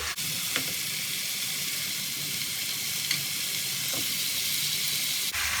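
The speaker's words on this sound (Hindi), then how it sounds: "तो अभी हम इसे बॉईल कर रहे हैं।" Liquid boiling in a pot for Peshawari-style mutton karahi, with a steady, close bubbling hiss that carries on unbroken, marked by a few faint clicks.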